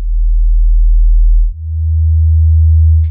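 Two pure sine-wave notes sound together as a steady, loud, low electronic hum, with the pitch shifting abruptly partway through before holding constant again.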